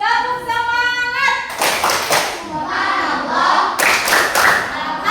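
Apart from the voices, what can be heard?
class doing a rhythmic 'tepuk semangat' spirit clap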